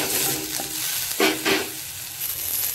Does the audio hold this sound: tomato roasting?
yes